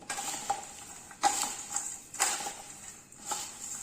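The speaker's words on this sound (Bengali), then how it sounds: "এবার হাত দিয়ে মাখবো না চামচ দুটো দিয়ে মাখবো" Two spoons clatter and scrape against a bowl while mixing jhal muri with lemon juice, a few sharper clinks standing out among soft, irregular rustling stirs, close and fairly quiet.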